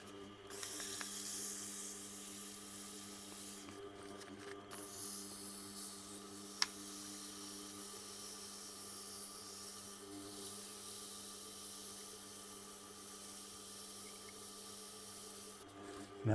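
2000 grit wet and dry paper sands the edge of a smashed ceramic knife under repair, a continuous soft, faint hiss with a low hum underneath and a couple of brief gaps in the strokes.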